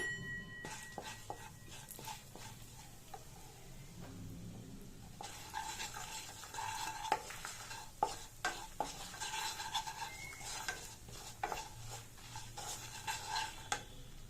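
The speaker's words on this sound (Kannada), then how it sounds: "ಈ ಹಂತಕ್ಕೆ ಜೀರಿಗೆ, ಚಕ್ಕೆ, ಲವಂಗ, ಏಲಕ್ಕಿ, ಒಣಗಿನ ಮೆಣಸಿನ್ಕಾಯಿ ಎಲ್ಲನೂ ಹಾಕೊಂಡು ಲೋ ಫ್ಲೇಮಲ್ಲಿ ಇಟ್ಕೊಂಡು ಫ್ರೈ ಮಾಡ್ಕೊಳ್ಳಿ" Whole spices – cumin, cinnamon, cloves, cardamom and dry red chillies – fry over a low flame in oil, in a pan that has just been used for frying eggs. A steady soft sizzle runs throughout with scattered stirring scrapes, and it grows busier midway, with no talk.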